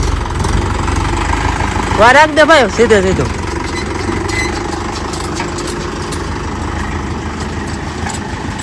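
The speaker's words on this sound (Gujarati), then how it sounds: "ટ્રેક્ટર આવી ગયું છે" Tractor engine idling nearby in a village, a steady low mechanical rumble running throughout, with a voice speaking briefly over it early on.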